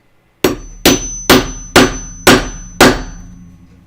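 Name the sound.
hammer whacking a snap fastener onto overalls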